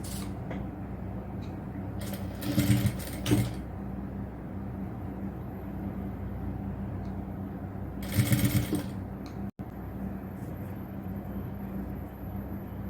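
A sewing machine stitching the frill of a triple-frill nighty, with two short bursts of rapid mechanical whirring about six seconds apart over a quiet room hum and no talk.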